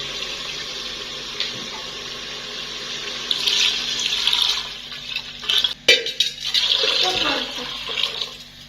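Water runs steadily into a cooking pot of browned onions, tomatoes and spices, a loud continuous rushing pour that swells midway, with a brief clatter of the pot near the end.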